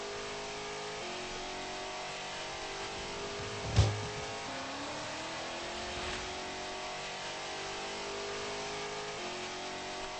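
A car engine in the Second Life video game, running in third gear, hums steadily, then its pitch climbs as it revs after a sharp knock midway. The sound is loud and close, with no talk.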